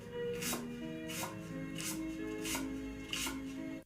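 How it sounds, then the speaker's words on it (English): AI-generated vegetable chopping in a warm anime kitchen, about five evenly spaced knife strikes on a board, crisp and close over soft sustained musical tones. "the chopping sound is really good"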